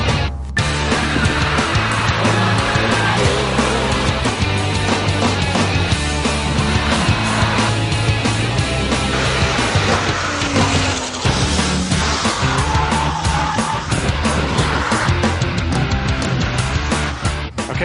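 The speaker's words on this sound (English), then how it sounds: "Porsche's 911 GT2 RS is next. It's the lightest, most powerful car here, and it's wearing some seriously sticky Michelin Cup track day tyres" A Porsche 911 GT2 RS on Michelin Cup track tyres laps a race circuit, its engine a loud, continuous roar with rising and falling revs and gear changes, heard close throughout.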